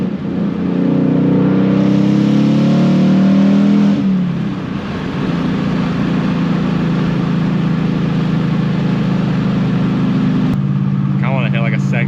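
A 2019 Mustang GT engine roars at full throttle, close and loud, with its pitch climbing through the rev range before easing into a steadier drone. Speech sounds briefly near the end.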